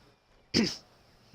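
A single short, sharp sneeze from a video game bursts out of near silence, close and moderately loud.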